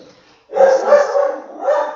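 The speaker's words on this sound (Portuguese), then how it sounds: "desculpa minha cachorra" A dog barking indoors, close and loud: a short whimper followed by a sustained bark and a second bark-yelp, no speech.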